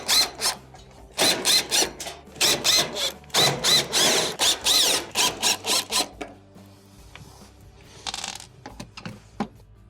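A power drill backs out number 2 Phillips screws around the back panel of a Samsung electric stove, giving short, loud whirring bursts in quick succession with brief pauses between them, followed by quieter clicks and handling noise.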